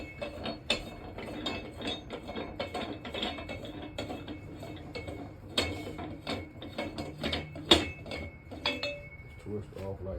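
Clicking ratchet-like metal rattles and clanks as a part is loosened on a Harbor Freight manual tire changer, a busy run of close, sharp mechanical ticks and knocks with faint speech mixed in.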